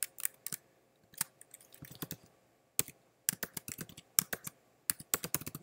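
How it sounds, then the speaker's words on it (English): Rapid clicking of computer keys in irregular bursts, close and fairly quiet, with short pauses between runs of typing and no voices. "I can start typing"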